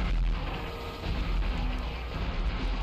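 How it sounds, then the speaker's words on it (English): Loud, continuous gunfire and rumbling explosions from many enemies in the Future Cop L.A.P.D. video game, a dense, steady barrage with no clear gaps. "there's so many people shooting at me"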